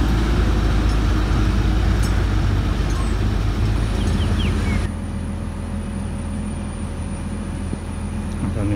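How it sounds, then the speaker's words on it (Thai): A truck fitted with a loud modified racing exhaust roars steadily at close range, a dense low rumble that drops abruptly partway through to a quieter idle-like drone. "นั้นก็ท่อจะลั่นด้วยนะครับท่อซิ่งด้วย"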